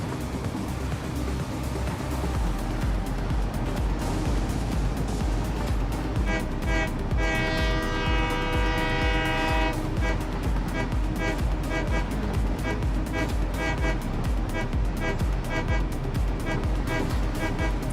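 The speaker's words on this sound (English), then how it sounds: "So many trains." Trains in the factory-building game Satisfactory rumble past with a long, steady horn toot in the middle, set against continuous mechanical machinery noise throughout.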